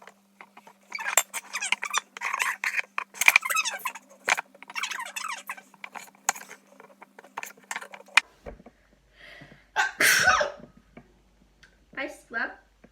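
A single sharp, loud sneeze bursts out near the end, after a stretch of talking and kitchen clatter while someone slices tomatoes, with a little more speech following it.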